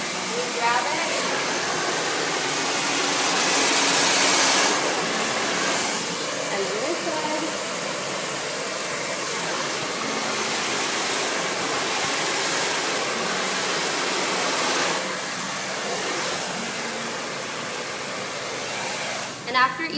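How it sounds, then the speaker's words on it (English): A hair dryer blows steadily while styling hair, a continuous loud rushing hiss that holds for the full stretch with slight shifts in pitch and strength as it moves. "I usually like take the blow dry and kind of fluff it up"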